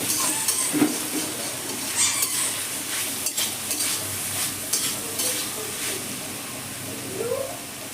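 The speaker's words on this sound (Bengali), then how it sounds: "আমি একবার নেড়ে দিচ্ছি আবার উপর নিচ করে" Nota saag greens and potatoes stirred in a pan after being uncovered, a steady sizzle under repeated spatula scrapes and clinks against the metal, with no talking.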